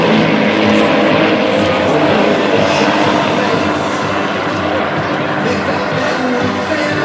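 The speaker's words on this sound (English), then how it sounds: "Example of 6 aircraft flying as one." Six aerobatic propeller planes of a formation flight team pass overhead at the Chicago Air & Water Show, a loud sustained engine roar over a crowd that slowly eases off.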